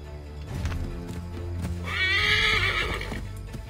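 Horse in Assassin's Creed 3 game gives a loud, close whinny midway, with clip-clop hoof steps and ambient game sound around it.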